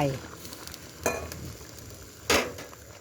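Pot of water at a rolling boil for Thai pumpkin and fresh shrimp soup, with a soft steady bubbling hiss and two short, louder splashy bursts as more goes in.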